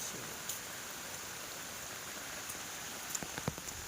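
Steady rain falls with a soft, even patter, a few louder drips near the end, quiet and continuous.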